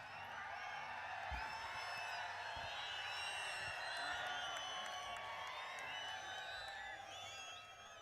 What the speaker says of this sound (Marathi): शिट्या आणि टाळ्या